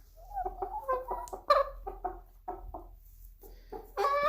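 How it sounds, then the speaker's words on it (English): Pet chickens clucking nearby in a quick series of short, throaty calls, some louder bursts near the end, over a quiet low hum. "I'm hearing all my little chickens right now."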